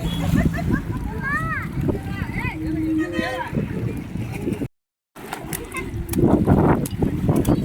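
A person swimming and splashing in water at an outdoor bathing spot by a temple pond. Steady sloshing and splashing runs throughout, with a brief cut midway, and people talking over it.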